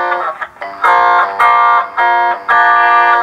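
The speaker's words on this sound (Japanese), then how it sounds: "このハンドメガホンのシミュレートでございます" Bright, harmonically rich guitar notes run through a Strymon TimeLine delay pedal's thin, boxy hand-megaphone simulation, played in short repeated phrases with brief gaps, loud and close.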